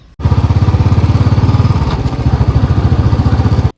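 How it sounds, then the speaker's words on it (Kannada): A 2018 Royal Enfield Bullet 349cc single-cylinder air-oil-cooled engine thumps loudly and evenly up close, a steady rapid putt-putt rhythm that holds for a few seconds before cutting off. "2018 bullet 349cc single cylinder air oil cooled engine ಇದ್ರಲ್ಲಿರೋದು"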